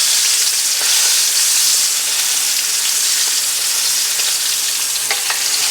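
Filet mignon steaks sear in a hot pan on the stove, giving a loud, continuous sizzle with faint crackles and occasional clinks as they are turned.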